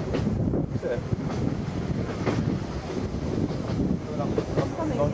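A heritage tram on the Seaton Tramway rumbles along steadily with continuous low running noise and wind buffeting, a few faint clanks over the top and no clear talk.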